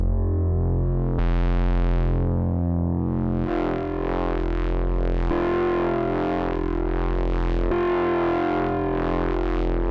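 A square-wave tone from a Majella Implexus synthesizer runs through a wave shaper, giving a buzzing, distorted sustained drone that shifts timbre in several steps over ten seconds, with no voices.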